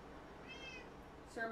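A cat meows once in the Minecraft video game, a short, clear mid-pitched call near the middle, followed by a brief louder game sound at the end.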